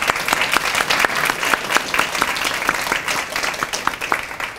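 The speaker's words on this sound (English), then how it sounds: "let's give another round of applause to our speaker, our keynote speaker, and also to our student winners" An audience applauds a keynote speaker and student award winners at a campus event, steady dense clapping with sharp individual claps standing out, sustained throughout without talk.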